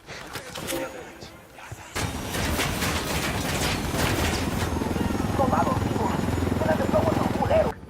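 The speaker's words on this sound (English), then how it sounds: "We can leave the chopper here and the rebels will pick it up." A helicopter in Ghost Recon Wildlands thrums with a continuous rotor roar that swells after a short lull. Rapid gunfire crackles through the mix and voices talk over the noise.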